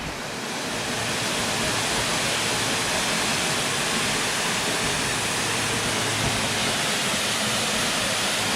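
A waterfall that stood in as the Batcave in the 2012 Batman movie roars close by, a loud, steady, unbroken rush of falling water swelling in at the start and holding without pause.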